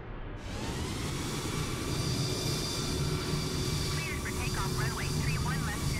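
An aircraft takes off in a flight simulator game with live airport traffic: a steady, loud jet-engine roar with whining tones holds throughout, and faint chirp-like sounds come through near the end.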